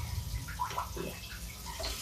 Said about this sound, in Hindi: लेकिन अब हम थोड़ा सा पानी डालेंगे।